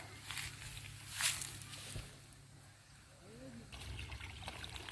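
Water trickles and pours steadily from a pipe linking a higher organic rice paddy to a lower one, a soft continuous outdoor flow with light rustling and brief bumps of movement nearby.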